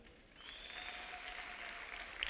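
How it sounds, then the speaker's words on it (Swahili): A church congregation applauding, a steady, even wash of clapping that holds at moderate loudness throughout, with a faint sustained tone drifting over it and no speech. "Mpe Bwana makofi mengi."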